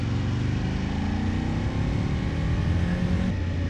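An Aprilia Tuono 1000 motorcycle engine climbs in revs while riding, a loud, close, throaty drone with rising harmonics and a brief dip near the end, with no talk over it.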